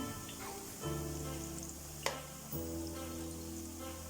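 Zucchini fritters (mücver) frying in oil in a pan, a steady close sizzle with a few brief louder crackles and no talk.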